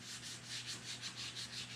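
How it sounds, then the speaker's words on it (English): Steady back-and-forth rasp of sandpaper rubbed by hand on a 1935 Chevy sedan during paint prep, repeating in a regular rhythm of quick strokes, close and fairly quiet. "Hand going, sandpaper moving."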